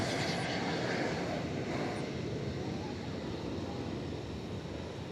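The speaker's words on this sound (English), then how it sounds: "An Airbus A321." An American Airlines Airbus A321 arriving from Atlanta at Dallas/Fort Worth at night, its engines a broad, moderate rumble that fades slowly, with a faint whine early on.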